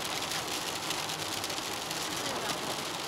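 Steady rain hiss from inside a car driving along a road, constant broadband wash with a low road rumble beneath, no talk.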